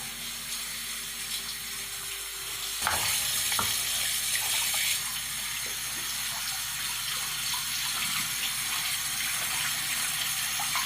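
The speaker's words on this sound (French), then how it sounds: "Et maintenant, on va rincer les pois chiches et les faire cuire." Tap water runs steadily into a sink while dried chickpeas are rinsed for hummus, a continuous close gushing stream with a brief splash shift partway through.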